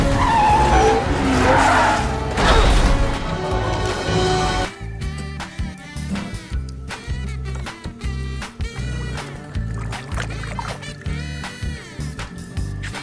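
A loud screech of a toy race car's tires skidding opens, then gives way to choppy, sputtering engine and squeal bursts in quick succession.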